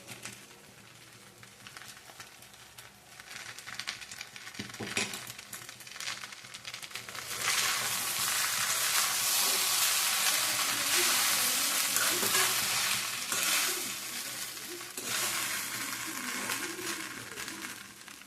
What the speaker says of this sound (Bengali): নারকেল, জিরে আর শুকনো লঙ্কা পেস্ট করে রেখেছি, এটা মিশিয়ে দিলাম।